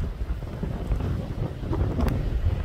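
Strong wind buffets the microphone outdoors in Newfoundland in a constant low roar, gusting unevenly throughout with no one speaking.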